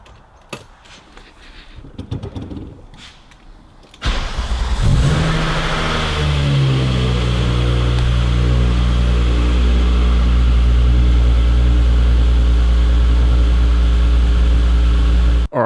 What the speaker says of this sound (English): I'm just going to quickly idle the car for about 5 minutes just to get some temperature into the oil